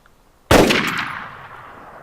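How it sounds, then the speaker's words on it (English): Gunfire in DayZ starts abruptly as one loud, close blast with a long ringing decay. No voices are heard. "Just gonna empty the mag here."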